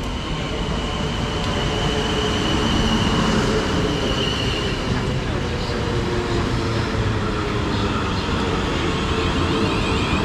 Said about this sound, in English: arriving now is the 11:27 South Western Railway service to Weybridge